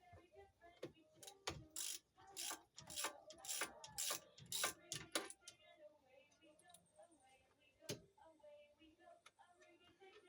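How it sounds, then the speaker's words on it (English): Ratchet clicking rapidly while removing two 17 mm brake caliper bolts on a Honda with a D15B engine. Bursts of sharp ratcheting come close and loud in the first half, then give way to a few sparse clicks and faint background noise. "I'm just removing these two 17 millimeter bolts."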